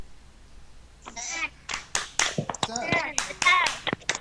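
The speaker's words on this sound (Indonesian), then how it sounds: "kita tepuk semangat dulu biar tidak ngantuk." In a classroom, students do a rhythmic spirit clap: sharp claps arrive in quick patterned bursts mixed with chanted young voices, starting after a quiet second.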